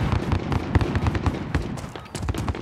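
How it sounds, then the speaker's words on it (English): Shotgun fire during a shooter video game, with a string of sharp, loud blasts and cracks at an uneven rhythm and faint ambient clatter between them, with no talking. "Why would anybody use this shotgun?"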